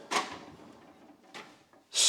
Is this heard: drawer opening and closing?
yes